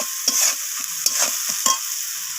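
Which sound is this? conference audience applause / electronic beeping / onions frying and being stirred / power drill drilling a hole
onions frying and being stirred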